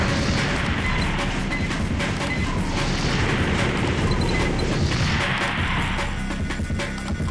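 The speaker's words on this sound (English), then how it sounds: "Might as well show you guys the cannon." A heavy cannon fires in the Armored Core: Project Phantasma video game, a loud sustained blast and crashing roar that fills the whole stretch with dense booming noise.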